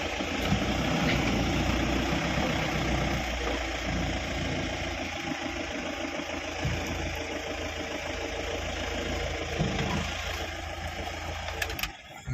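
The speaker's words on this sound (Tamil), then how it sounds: "வண்டி இப்போ ரிவர்ஸில் போகும், பார்த்துக்கோங்க." A 2013 Mahindra Bolero pickup's engine runs steadily as the truck reverses, a close, loud, continuous diesel drone with a rattling mechanical texture that holds throughout before a brief knock at the end.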